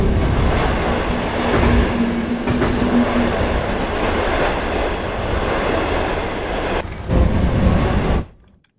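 Train running on rails in the MaSzyna train simulator game: loud, continuous rolling rumble with rhythmic clickety-clack of wheels over rail joints, steady for about eight seconds before cutting off abruptly.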